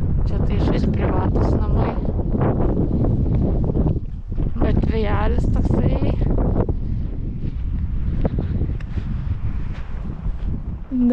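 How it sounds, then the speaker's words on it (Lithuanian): Wind gusts at a beach in Copenhagen buffet the microphone with a low, rumbling roar while a person talks over it. "Dar vėjelis yra."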